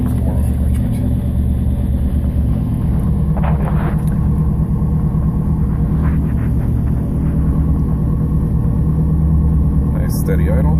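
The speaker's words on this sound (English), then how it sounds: "Nice steady idle." A 1987 Pontiac Trans Am with Megasquirt fuel injection idles steadily after a cold start, a low even engine rumble running throughout with brief voices over it.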